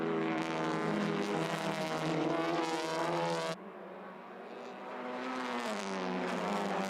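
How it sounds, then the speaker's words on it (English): TCR touring race cars bunch up at racing speed through the downhill right-hander at the Salzburgring, loud high-revving engine roar with shifting pitch, an abrupt cut, then engines building again, with no talk. "They all bunch up, going through the downhill right-hander at the Fahrerlager curve."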